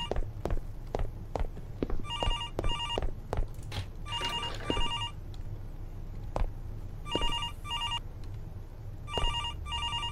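A telephone rings repeatedly in the horror video game Don't Answer, sharp bursts of ringing recurring in clusters while footsteps thud and creak through the rooms of a house.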